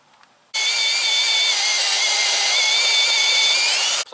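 A power drill runs forward, boring through wood in one steady, loud, high-pitched whir of about three and a half seconds that starts and stops abruptly.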